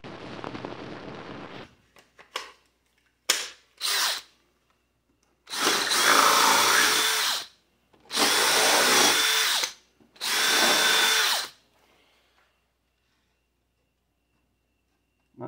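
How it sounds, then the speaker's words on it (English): A power drill whirs in short bursts while mounting a bench vise, then three longer, loud runs of drilling separated by brief pauses, close to the microphone. "That's me drilling and putting this vise in."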